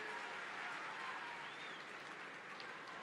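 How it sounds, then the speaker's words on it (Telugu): Audience clapping at a Women's Day gathering with Chief Minister Chandrababu in Markapuram: a dense, steady wash of applause from many hands that holds at an even level for about three seconds, with no voices over it. "అనిపిస్తే గట్టిగా చప్పట్లు కొట్టి ఆశీర్వదించండి."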